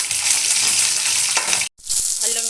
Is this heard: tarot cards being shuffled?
no